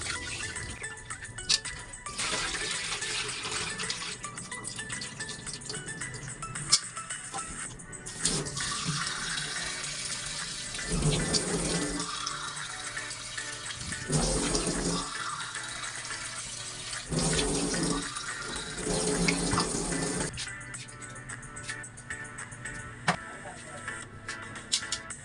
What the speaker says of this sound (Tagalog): hugasan ko na yung bigas bago ko siya isalang